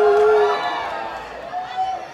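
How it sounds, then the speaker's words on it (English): A crowd whoops and shouts loudly and without a break, with a shrill whistle-like cry rising over the din. "I'm hearing noises from the crowd in relation to Broward County that I have never heard come out of a human being before"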